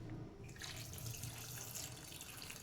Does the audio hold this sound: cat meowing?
no